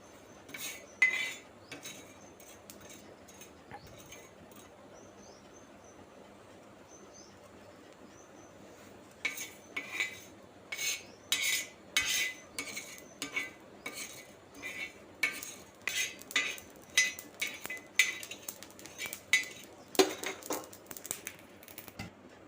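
Cumin and fenugreek seeds dry roast in a pan: a quiet stretch, then a rapid series of close metallic scrapes and rattles as the seeds are stirred.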